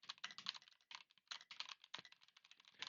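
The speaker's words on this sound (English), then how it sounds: "So I could see that the keyboard noise is coming in the background." Computer keyboard typing picked up by a wireless headset mic: rapid, irregular clicking keystrokes in quick bursts with short gaps, faint and thin in the background.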